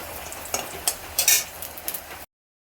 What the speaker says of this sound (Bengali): আগে বেসনগুলো ভাজছি